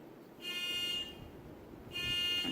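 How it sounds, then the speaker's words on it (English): A distant electronic alarm sounds in two long steady tones with a gap between them, faint against quiet room noise. "Someone's alarm is going off for their car."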